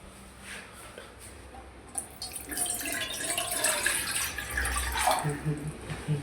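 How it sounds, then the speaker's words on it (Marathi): Water is poured into a metal tea pot in a home kitchen, a steady close splash and trickle that rises and continues over several seconds with faint background noise. "तर पाणी घेऊ आपण."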